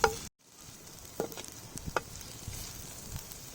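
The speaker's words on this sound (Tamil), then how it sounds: "வெங்காயத்தை போட்டுக்குவோம். போடுங்க. நல்லா இதை வந்து கிண்டிக்குவோம்." Onions in a pan give off a quiet, low sizzle, broken by a few soft knocks and scrapes as they are stirred.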